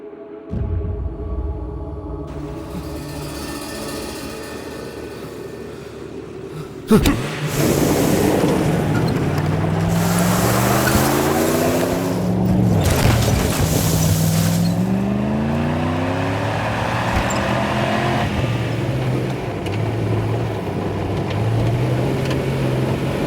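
A car engine in a Tamil film scene starts with a sharp clunk and then runs loudly, revving and rising and falling in pitch as the vehicle drives off, with a quieter background hum beforehand.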